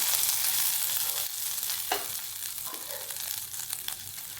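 Garlic and ginger paste frying in hot oil in a pan at home, a steady close sizzle with occasional stirring scrapes and small pops, no voices.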